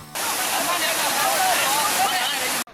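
Floodwaters from swollen rivers after days of heavy rain in Guangdong, China, rushing in a loud, steady roar with churning splashes, continuous throughout before cutting off abruptly at the end.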